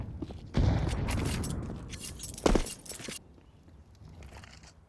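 Barrage of HE grenades exploding in Counter-Strike during an ESL Challenger League match, a loud burst of blasts and crackling debris with a second sharp bang, then fading to quieter game ambience.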